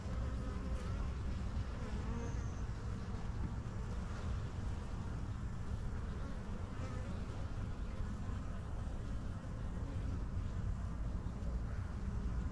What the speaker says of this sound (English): My, these bees are just gentle.